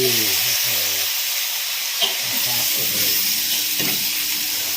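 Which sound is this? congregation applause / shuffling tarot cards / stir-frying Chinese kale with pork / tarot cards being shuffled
stir-frying Chinese kale with pork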